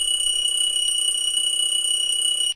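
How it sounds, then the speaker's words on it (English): A phone alarm rings inside the video game My Maid Girlfriend, a loud, continuous high-pitched electronic tone with steady pulsing, sounding alone without any talk over it. "Oh no, not again, my phone alarm."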